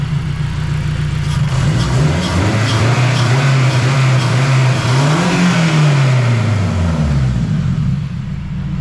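Turbocharged K20 engine in a Honda Civic EK revving up and down, a loud close rising and falling engine note over a steady idle, with no talk.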